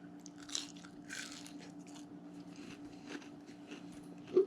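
Crunchy french fries being bitten and chewed up close, with several soft crunches and chewing sounds spread over a few seconds and a sharper bite near the end, with no talking.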